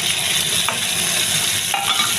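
Potatoes frying in a pan with ginger and green chili paste while being stirred, a steady close sizzle with scraping stir strokes throughout.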